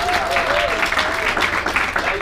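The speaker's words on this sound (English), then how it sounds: "Big round of applause for our gold builders." A loud, full round of audience applause at a live London marketing event, with dense clapping filling the room and a voice or two calling out underneath.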